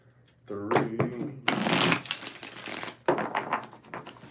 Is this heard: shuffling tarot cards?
yes